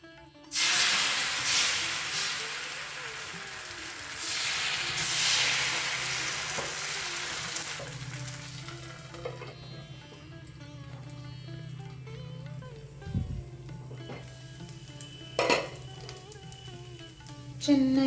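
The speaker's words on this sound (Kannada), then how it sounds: "ಈಗ ದೋಸೆಯನ್ನು ಹುರಿದುಕೊಳ್ಳುವ." Spinach neer dosa batter fries on a hot griddle, with a loud hissing sizzle at first that settles into a quieter steady crackle, plus a few brief clatters near the end.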